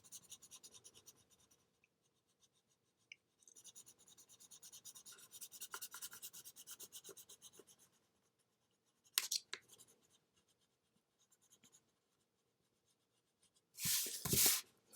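Soft graphite pencil, a 6B, pressed hard and scrubbed across paper to build the darkest shade, heard as bursts of steady scratchy rubbing with pauses between strokes and a louder rasp near the end.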